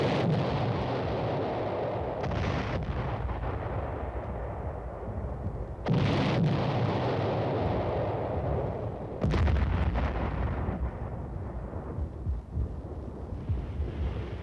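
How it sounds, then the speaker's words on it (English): Concentrated artillery bombardment during a military exercise in Europe, a continuous rumbling roar broken by three loud booming blasts at a distance, with wind buffeting the microphone. "Regular artillery pieces are now brought into play for this concentrated bombardment."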